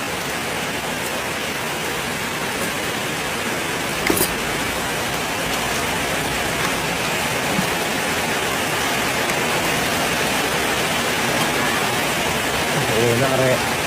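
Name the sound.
heavy rain falling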